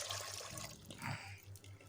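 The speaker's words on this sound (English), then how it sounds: "Then I'll add some water in it." Water running into a cooking pot set on a fire while making Ghanaian waakye, a steady splashing pour with a low hum underneath, close and moderately quiet throughout.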